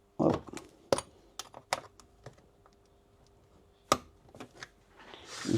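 A plastic BMW ECU module housing is pried open with a tool, giving a series of sharp, brittle clicks and snaps spaced irregularly, with faint talk in between.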